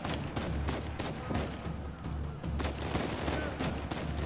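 Dense, sustained gunfire in Uncharted 4, with rapid bursts and overlapping shots forming an almost continuous barrage.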